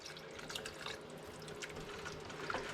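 Water trickles and splashes into a pot of deer chili, a faint, steady pouring with light drips, close and quiet, no voices.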